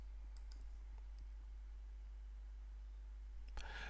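A mouse clicking the Save and Close button on the Actions toolbar in the Joomla 3 admin panel: a few faint, soft ticks over a steady low hum, then a sharper click near the end.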